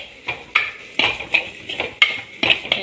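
A spoon scrapes and clacks repeatedly against a pan while masala for a Kerala-style coconut avoli fish curry is stirred, a close, rhythmic series of about eight metallic strokes over a faint sizzle, with nobody talking.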